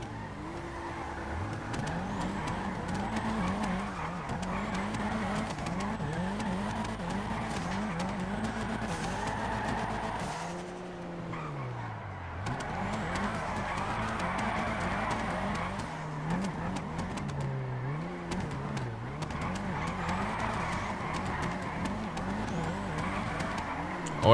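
Several cars drift at a touge session on a mountain road, engines revving up and down in rising and falling sweeps while tires skid and squeal, loud and close, with a brief dip midway before the noise swells again.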